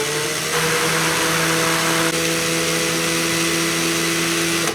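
A drill spins steadily to wind fused Clapton coil wire for a vape atomizer, a loud continuous motor whine with a steady pitch held throughout.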